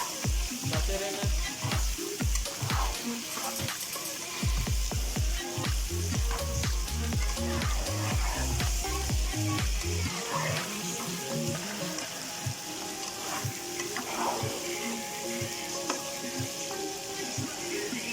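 Mutton liver sizzles loudly in hot oil, a dense steady frying hiss with rhythmic scraping and stirring knocks through the first half, continuing alone without talk.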